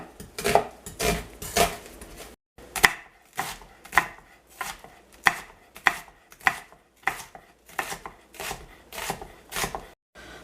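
A knife chops onions on a cutting board in steady, rhythmic strokes, close and clear, with a short pause partway through.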